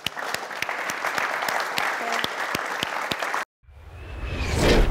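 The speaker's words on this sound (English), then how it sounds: "Big hand of applause to all of you" Audience applause at a model manhunt pageant in India: a steady crowd of clapping with sharp individual claps, cutting off abruptly near the end before a rising whooshing swell.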